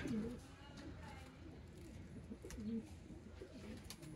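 Pigeons kept by a breeder give soft, low coos that recur a few times beside someone talking nearby, with light background noise throughout.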